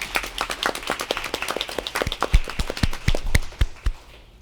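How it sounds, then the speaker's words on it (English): Scattered hand claps ring out from a small audience at a Cupertino city council meeting: sharp, separate claps at an uneven pace that thin out and fade at the end. "So let's give all those winners a round of applause."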